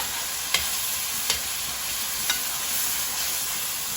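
Seasoning sizzles steadily in a hot pan for sweet potato dumplings, a continuous hiss with three sharp scrapes or taps of stirring spaced through it, close and moderately loud with no talk.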